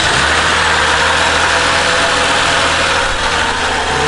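A Toyota Highlander 3.5L car engine idles steadily and loudly after spark plug replacement, a constant rumbling hum with no talking over it.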